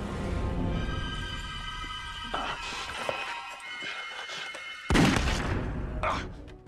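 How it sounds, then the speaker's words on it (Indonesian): Bursts of gunfire and a heavy boom amid a tense film soundtrack, with a loud blast near the end, in the war film Enemy at the Gates. "Mayor Konik pun terkena tembakan di bagian tangannya dan membuatnya mundur"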